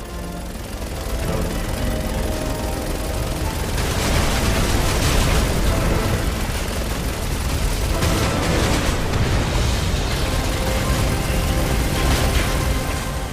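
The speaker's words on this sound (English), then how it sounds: "Keep him out of sight every now and again and he'll waste his missiles" Missile blasts erupt in Resident Evil 6 on PS3, a dense, loud run of booming detonations and rumbling bursts that swell and overlap for several seconds with no talking.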